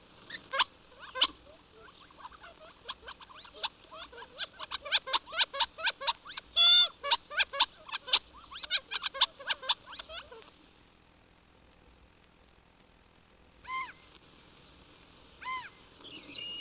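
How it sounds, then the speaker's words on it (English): Gambel's quail, a favorite game bird of the southwestern deserts, gives a rapid series of sharp, clear calls for about ten seconds. After a quiet gap, two more isolated calls sound at a moderate distance. "the Gambel's quail is the favorite game bird"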